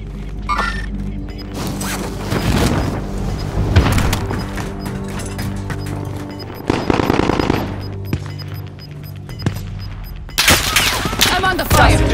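Rapid bursts of automatic gunfire and scattered shots in the video game Call of Duty: Modern Warfare, loud and close, recurring in waves over a continuous battle din with faint voices underneath.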